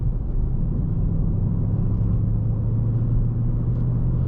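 2019 Ford Mustang Bullitt with its 5-liter V8 and six-speed manual, a steady, loud low rumble of the engine under load, droning continuously without a clear rise in pitch.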